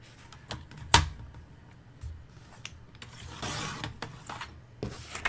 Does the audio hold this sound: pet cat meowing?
no